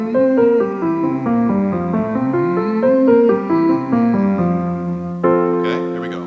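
A voice hums a smooth sliding pitch pattern in an NG-to-M vocal exercise, rising and falling on a nasal tone before settling onto a steady closed-mouth hum.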